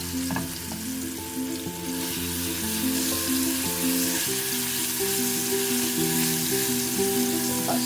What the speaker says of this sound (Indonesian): Kita tumis dulu ya, biar sedap.